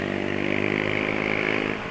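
A Yamaha NMAX scooter with an aftermarket racing exhaust revs close by, a loud, buzzy, steady engine drone with a rapid pulsing beat that eases off slightly at the very end.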